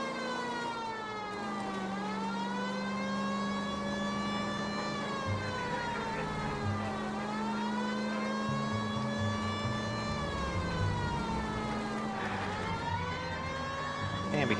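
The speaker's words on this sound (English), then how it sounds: "And because this is an emergency, we'll use the sirens" A wailing police car siren rises and falls continuously in the game LA Noire, loud and steady throughout, with engine and background noise underneath.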